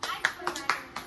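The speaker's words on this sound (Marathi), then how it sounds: "टाळ्या" Hands clapping in a few sharp, evenly spaced claps, faint and close, with a voice murmuring alongside.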